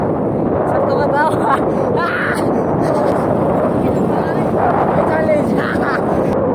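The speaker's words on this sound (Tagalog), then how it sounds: "Hangin kayo gyud." Strong wind buffets the microphone during a bike ride in a rural barangay, a steady loud rushing roar that fills the whole stretch without letting up.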